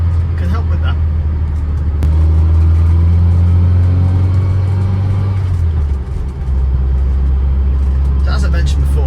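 A retro Austin Allegro drives along with a loud, steady low engine drone that dips briefly as if shifting gear, then carries on.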